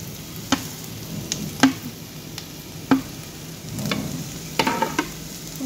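Sliced karela (bitter gourd) fries in a pan over a low flame while a utensil stirs it, leaving a soft sizzle beneath a handful of sharp scraping clacks spaced a second or so apart.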